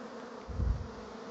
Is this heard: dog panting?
no